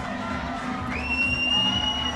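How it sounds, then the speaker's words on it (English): A stadium crowd at the Perth African Nations Cup 2021 seniors football final roars and cheers steadily as the players walk out, the noise building slightly with a whistle-like tone on top. "The crowd will cheer as the players of both teams make their way"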